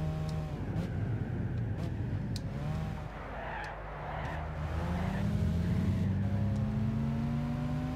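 A Lancia Stratos engine in the video game Gran Turismo 6 drones and revs steadily, its pitch rising and falling through gear changes at a moderate level, with faint game sounds and no speech.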